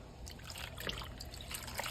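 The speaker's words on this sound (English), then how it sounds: "Pour this marinade over." A marinade trickles and splashes steadily over food, a soft continuous pour with a few faint drips over a steady low hum, close by and quiet.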